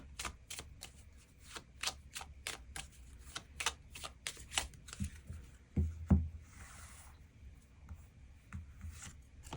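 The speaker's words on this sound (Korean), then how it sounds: "추가 카드 뽑아보도록 하겠습니다" Tarot cards are shuffled and drawn by hand, a rapid series of crisp, close card flicks and riffles with a soft rustle and a couple of heavier taps near the end, no speech.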